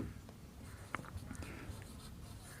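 Pen scratches across paper in short strokes and taps during a maths lesson, faint and close, with brief pauses between marks.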